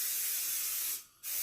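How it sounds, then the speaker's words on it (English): Cooking spray hissing onto a pan in a kitchen, one continuous close burst that breaks briefly before a second short spray. "And spray my pan"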